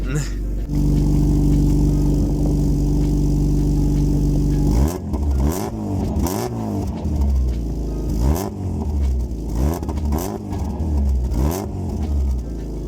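A car engine cranks and fires, then settles into a rumbling idle broken by repeated revs that rise and fall, loud and close by.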